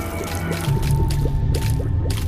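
Wet, squishy tear shots pop repeatedly in The Binding of Isaac, short splashy impacts landing in quick succession over a steady game music bed with low rhythmic tones.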